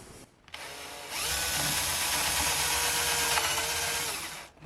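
A power drill whirs up and bores steadily into wood for several seconds, loud and close, then winds down abruptly.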